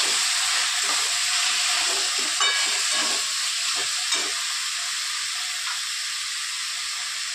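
Finely chopped potatoes stir-frying in a pan for a dry brinjal-potato sabzi, giving a steady close sizzle and hiss with a few scraping stirs, no talking.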